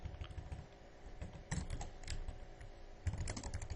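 C++ code is typed on a computer keyboard, a quick run of soft key clicks with short pauses, close and quiet, with no one talking.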